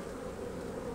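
Honeybees and drones buzz on a frame lifted from a spring hive during a swarm-cell split inspection, a dense, steady close drone with no voices over it.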